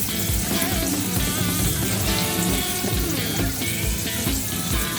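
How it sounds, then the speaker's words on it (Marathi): Large prawns coated in egg, frying Konkan style in a pan, giving a loud, dense sizzle and crackle that carries steadily throughout. "त्या कोलंब्या मी फ्राय करून घेते"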